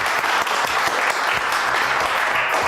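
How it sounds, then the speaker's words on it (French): Sustained studio audience applause during a French TV comedy news show, dense and steady throughout, with no talking over it. "Allez, on applaudit très fort Isabelle II qui fait une soirée Discopital."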